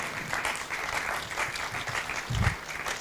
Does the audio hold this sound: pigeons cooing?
no